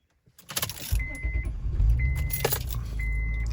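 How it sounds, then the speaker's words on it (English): An old car starts first time: keys jangle close by, then the engine cranks, catches and settles into a steady low idle. "I'm actually surprised that it started first time without any problems because this car's so old"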